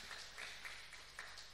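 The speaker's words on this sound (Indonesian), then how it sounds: "Yang setuju, boleh tepuk tangan bagi Tuhan." A church congregation applauds during a sermon, a brief, fairly faint and even patter of many hands clapping together in a large room, with no voices heard.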